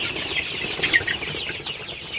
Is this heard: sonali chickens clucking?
yes